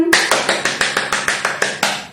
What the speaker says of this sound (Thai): ใครอยากฟังขอเสียงปรบมือก่อน